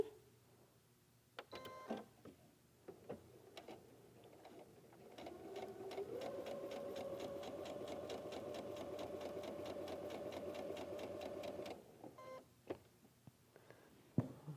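A sewing machine stitches a variable star quilt block in one long, fast, steady run of rapid needle beats lasting several seconds, bracketed by scattered clicks and fabric handling before and after.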